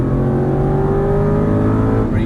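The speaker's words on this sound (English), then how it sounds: "Now squeeze on the throttle, we are full throttle" Aston Martin V8 Vantage GT race car engine at full throttle, a loud, close, sustained roar with its pitch climbing steadily as it accelerates.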